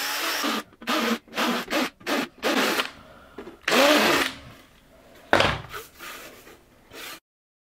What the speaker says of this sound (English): So instead I might try one of these burrs. These are from my die grinder.